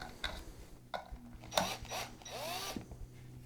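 A power drill drives screws through angle pieces into MDF board in a workshop, giving a few short, fairly quiet whirring bursts separated by light clatter.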